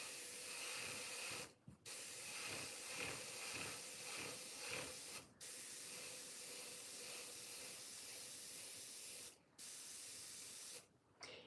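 An airbrush loaded with a dark shadow paint mix sprays in a steady, close hiss, cut by a few brief pauses where the trigger is released.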